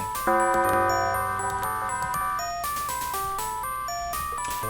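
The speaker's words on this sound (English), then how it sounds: "Oh, doorbell's ringing. We should go get it." Electronic doorbell chime in the DOS horror adventure game Dark Seed, a bright synthesized melody of stepped beeping tones playing steadily over low game music.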